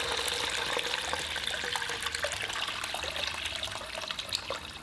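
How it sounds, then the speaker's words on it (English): Water pours steadily into a pot of stir-fried pork belly for Taiwanese braised pork, a continuous close splashing gush that runs unbroken for several seconds and eases off slightly at the end. "Pour in the water"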